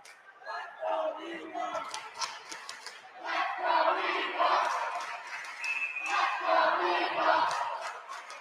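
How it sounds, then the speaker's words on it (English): A hockey arena crowd at a university game yells and cheers in swelling waves of shouting, loud and sustained, with a commentator's voice mixed in. "the crowd right back into it"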